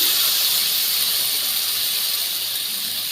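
Water from rinsing a bowl is tipped into hot, fried spice paste for a Kashmiri paneer curry, giving a loud, steady hiss of steam and sizzle that holds evenly throughout.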